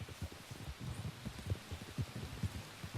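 Steady rain falls outdoors, a soft continuous wash with dense low patter and scattered heavier drops, fairly faint and without voices.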